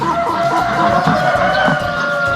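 Jersey Giant chickens, a large pure breed, clucking and crowing at a close, continuous level over steady barnyard noise at a fowl breeder's pen.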